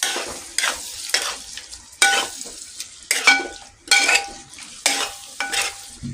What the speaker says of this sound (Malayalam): എത്രയും ടൈം ഇങ്ങനെ ഇളക്കുന്നോ അത്രയും ബീഫ് നന്നായിരിക്കും